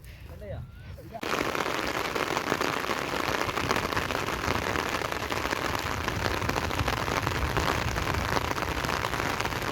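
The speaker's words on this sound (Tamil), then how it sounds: "வானம் நல்லா இருட்ட ஆரம்பித்து மழை பெய்ய ஆரம்பிச்சிச்சு" Steady rain starts falling hard during a fishing trip under a darkening sky, a dense continuous hiss and patter that swells abruptly after a quieter opening and then holds loud and unbroken.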